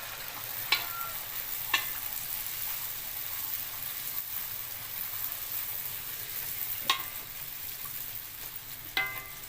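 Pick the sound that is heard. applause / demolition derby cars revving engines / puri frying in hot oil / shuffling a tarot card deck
puri frying in hot oil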